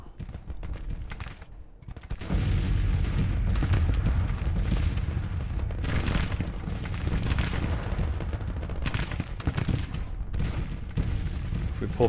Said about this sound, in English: some of our guns are opening up down here